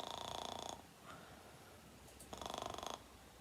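A narrator's voice imitates gentle snoring, with two drawn-out, buzzy snore sounds separated by a quiet pause, close and soft.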